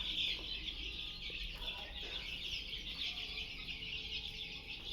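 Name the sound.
chickens clucking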